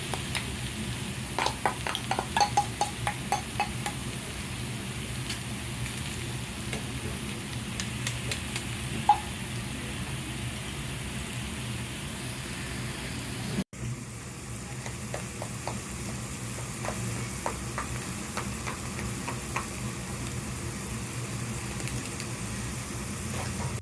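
Okonomiyaki, a savory Japanese pancake topped with thin pork slices, sizzles steadily on a hot griddle with occasional scraping and tapping of utensils, a continuous close hiss with no talking.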